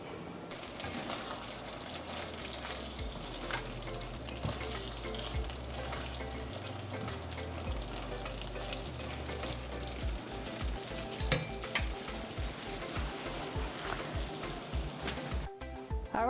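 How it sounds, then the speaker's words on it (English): Sticky chicken in a sweet, tangy, spicy sauce simmers in a covered pan, a continuous busy bubbling and sizzling like light rain, loud and close the whole time. "I'm going to lower the heat, cover this, and let it simmer for about 5 minutes."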